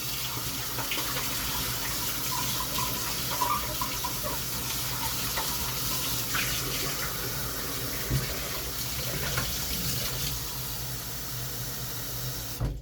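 Water runs steadily from a tap for several seconds, a continuous splashing hiss filling pet bowls up close, with no talking.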